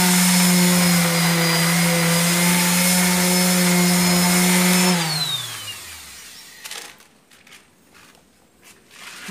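A power sander on a wooden window frame whines steadily and loudly, then spins down with a falling pitch, leaving quieter scraping and tapping afterward.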